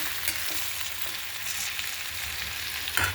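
Okra fries in a pan with a steady close sizzle and hiss, with a brief utensil clink near the end.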